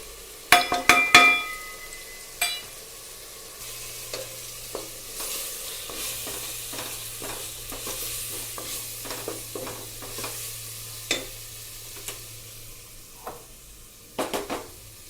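Spice powders sautéing in oil with ginger and garlic for Tamil-style mutton thokku: a soft, steady sizzle under repeated sharp clinks and scrapes of a metal spoon stirring in the pan, busiest at the start and end.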